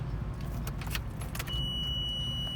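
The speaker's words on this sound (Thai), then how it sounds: "จะมีเสียงอะลามตี ตลอดได้ยินเสียงไหมคะ" A steady high-pitched electronic alarm tone from a FOMM One electric car, started while charging, begins partway through and holds over a low engine rumble and faint metallic rattling.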